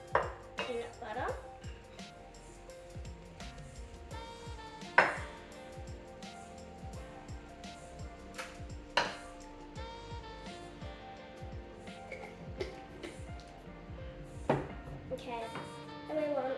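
A spoon mixes peanut butter in a bowl for homemade dog ice cream treats, giving repeated clinks and scrapes against the bowl with a few sharper knocks, close and moderately loud amid kitchen clatter.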